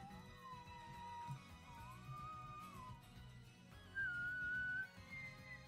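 A person whistles a wandering, thoughtful tune over background music, the melody drifting up and down with a louder, sustained passage near the end; no speech.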